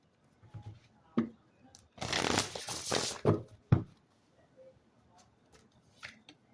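Oracle cards from a deck being shuffled in a burst of riffling and rustling, with a few separate quieter card slaps and taps before and after, close and unaccompanied by speech.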